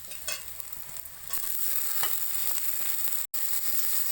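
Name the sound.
frying chopped tomato and onion in oil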